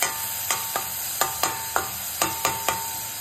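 Onion frying in a pan for Schezwan rice gives a close, steady sizzle, punctuated by eight or so regular sharp scrapes and taps of a spatula as it's stirred.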